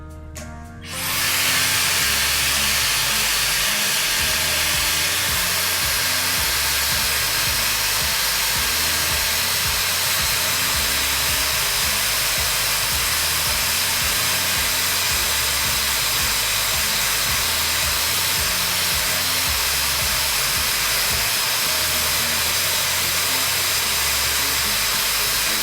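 A Dyson Airwrap dupe hair styler blows air while curling hair, a steady, loud whooshing whir that starts abruptly and runs unbroken for about 24 seconds with no talking.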